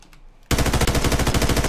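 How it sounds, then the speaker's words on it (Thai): Rapid automatic gunfire in a Roblox shooting game, a loud sustained burst of evenly spaced shots that starts abruptly after a quiet moment, with no talk. "มีคนยิงมา แล้วศัตรูป่ะน่ะ"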